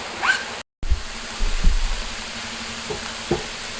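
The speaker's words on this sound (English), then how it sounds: "Stir fry 2 minutes. Now add the spring onions and cook it until there is no liquid." Silver beet greens and spring onions stir-frying in a pan, a soft continuous sizzle with occasional scrapes and clinks of a utensil, one brief dropout near the start, no voices.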